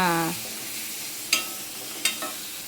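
Onion and tomato sauté in a pan with a quiet background sizzle, broken by two sharp, close stirring scrapes about a second apart.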